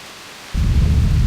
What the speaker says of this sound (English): one day, a terrible storm beset the village.